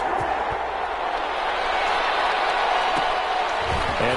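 Steady roar of a stadium crowd in an NFL video game, a Tennessee Titans versus New Orleans Saints matchup, holding a dense, even din throughout with faint thumps and a commentator's voice present.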